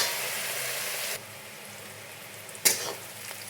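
Onions frying in a pan for mutton curry, a bright sizzle that drops to a quieter crackle partway through and then flares with a sharp burst near the end, with no talk.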